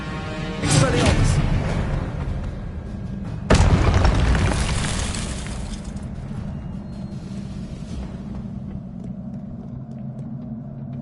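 A spell goes off in the Hogwarts Legacy video game with two heavy booming bursts, the second louder and sharper, then a long rumbling tail that slowly fades.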